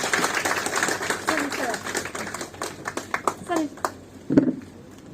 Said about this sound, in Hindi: जोरदार तालियों से इस्तकबाल होना चाहिए